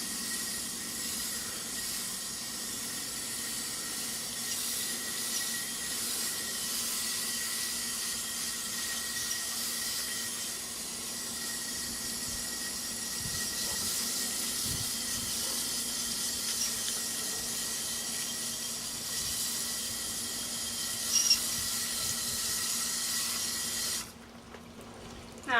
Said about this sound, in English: Now we're rinsing off our cast.